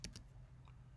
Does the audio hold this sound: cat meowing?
no